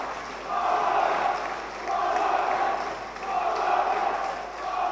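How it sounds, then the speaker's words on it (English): A boxing arena crowd roars for a fighter in swelling, loud waves of cheering and chanting during a bout between Lee Markham and Bradley Pryce. "Crowd's going mental for him."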